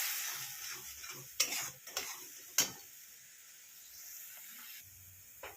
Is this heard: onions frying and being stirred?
yes